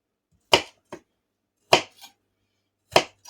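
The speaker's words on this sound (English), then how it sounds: "cut your onion up however large or small you like it" Knife chopping onion on a board: three sharp, separate strikes spaced about a second apart, each followed by a smaller tap, close and clear with silence between.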